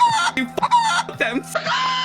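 A chicken in a video game clucks repeatedly in loud, close, choppy bursts, with several sharp clucks and squawks following one another in quick succession.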